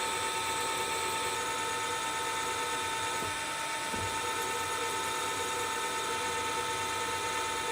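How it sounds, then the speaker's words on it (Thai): A drill bit bores into a metal workpiece, with coolant dripped on during a bench metalwork drilling step; the drill gives a steady, continuous high whine throughout, with a couple of brief lower knocks partway through. "แล้วทำการเจาะนะครับ"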